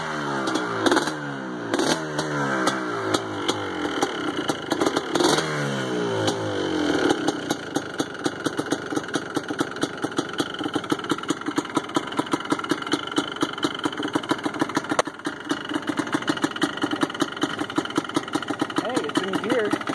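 A Yamaha Blaster ATV engine on its first start in a while, sputtering and revving in uneven bursts before settling into a steady, loud, close idle, with voices talking over it.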